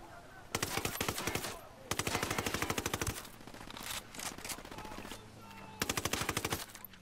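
Rapid automatic gunfire from Ghost Recon Wildlands, several loud sustained bursts with dense rhythmic shots separated by brief pauses and scattered single shots.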